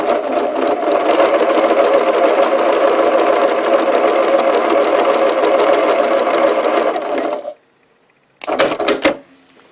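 A sewing machine stitches quilt pieces in a fast, even, loud run of needle strokes for about seven seconds, stops, then gives a short final burst.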